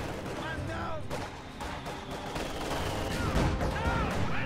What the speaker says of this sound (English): T-34 firing at those Ostrupen will force the retreat